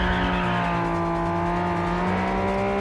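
A sports car engine from Test Drive Unlimited Solar Crown holds a steady, loud drone during a city-street time-attack race, with no pauses and faint tire noise beneath it.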